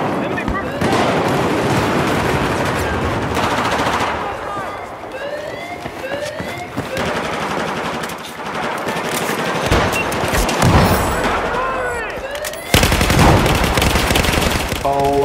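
Rapid bursts of automatic gunfire and scattered shots in the video game Battlefield 4, layered with dense game effects and a siren-like wail, steady and loud across the whole stretch.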